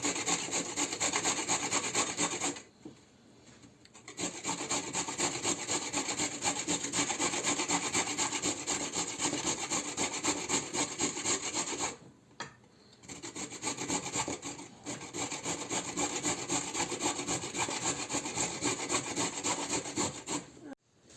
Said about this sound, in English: we're going to grate these 5 carrots all together